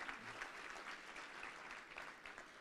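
Faint, distant audience applause at an annual banquet, a steady even patter of many hands clapping without pause for a couple of seconds.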